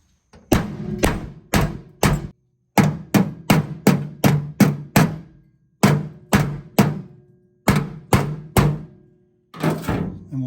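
A hammer dents in the metal of a fuel cell being fitted to a V8 Pinto, landing about twenty sharp, hollow blows in quick bursts of three to five with short pauses between.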